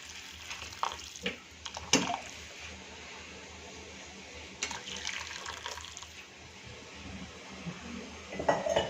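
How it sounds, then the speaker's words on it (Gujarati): Vegetable stock poured into a pot of Manchow soup, running liquid with clinks of pots and utensils and a few louder splashes and knocks over a steady watery background. "હવે આ સ્ટોકને આપણે આની અંદર એડ કરી દઈશું"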